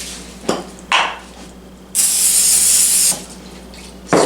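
Cooking spray on potatoes before air frying, several short hissing bursts followed by one long continuous spray, close and loud with brief pauses between bursts.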